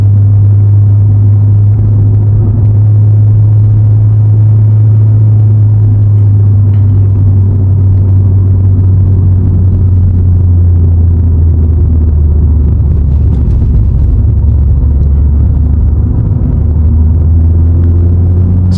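A VW Polo 1.2 TSI (66 kW) is driven in third gear on a mountain road, heard from inside as a loud, steady low engine drone and rumble that holds an even pitch, with no talk.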